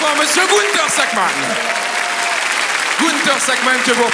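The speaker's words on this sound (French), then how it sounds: "Mesdames et messieurs, vous pouvez l'applaudir encore très très fort" Audience applause for a circus performer on a Saturday night TV variety show in Pigalle, a dense steady roar of clapping throughout, with a host's voice and music-like tones running over it.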